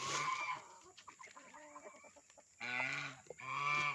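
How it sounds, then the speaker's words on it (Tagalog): Chickens cluck while eating azolla, with several nearby birds giving short overlapping clucks and throaty calls, including louder bursts near the end, in an outdoor farmyard. "yung mga manok naman yung kumakain"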